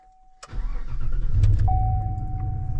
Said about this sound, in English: You ready for a somewhat cold start?